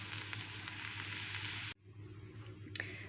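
Carrots and onion sizzle steadily in a sauté pan, a close, even frying hiss that cuts off abruptly, leaving a faint crackle and a brief clink.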